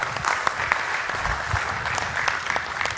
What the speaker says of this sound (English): please join me in welcoming with a huge round of applause